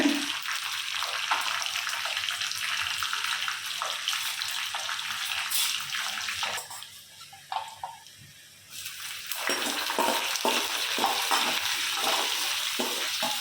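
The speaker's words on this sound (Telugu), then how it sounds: "ఇదొక పక్క ఆమ్లెట్ వేస్తున్నాను" Steady frying hiss and sizzle from a pan cooking an onion omelette, with a brief quieter dip midway before the crackling sizzle returns, no voices.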